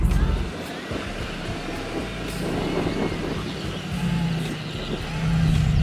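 A Mercedes G-Class crawling off-road in low range with its front, center and rear differential lockers engaged, a steady low engine drone and rumble with tire and terrain noise, close and continuous.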